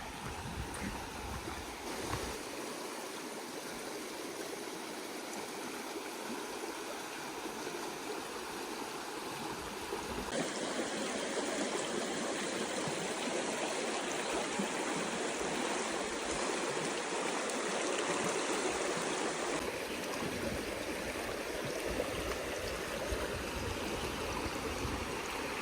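A stream runs beside a camp spot, a steady broadband rush of flowing water that swells louder midway, continuous and close with no voices.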